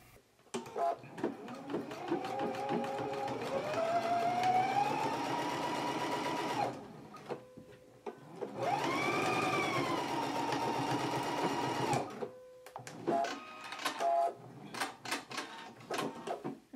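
A sewing machine stitches a hem across a garment facing in two long, steady runs of rapid whirring, each several seconds long, separated by short pauses and followed by a few brief bursts.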